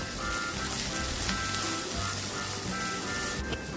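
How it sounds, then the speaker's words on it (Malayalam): Sliced beans sautéing with a little salt in a pan for Maggi masala, producing a soft, even sizzle with faint stirring sounds throughout. "ഒരു കാൽ സ്പൂൺ ഉപ്പും കൂടി ഇട്ട് കൊടുത്ത് നന്നായിട്ടൊന്ന് വഴറ്റിയെടുക്കാം"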